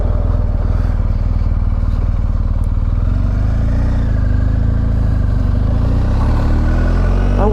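A BMW R1250GS motorcycle in Alaska runs loud and close, its engine chugging in a steady rhythmic throb that climbs slightly in pitch toward the end, with no talking over it.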